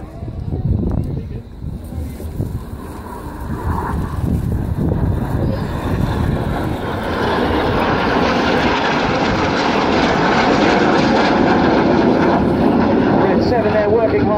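Red Arrows jets, including the synchro pair flying inverted, roar past at the Yeovilton air day, a loud engine rumble swelling into a sustained, wind-buffeted jet roar with an announcer's voice over it.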